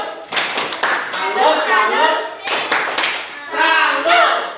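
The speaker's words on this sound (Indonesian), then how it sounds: "Iya, tepuk salut" A group of schoolchildren claps out a rhythmic 'tepuk salut' pattern in a classroom, sharp hand claps in quick bursts with a pause midway, mixed with children's voices chanting along.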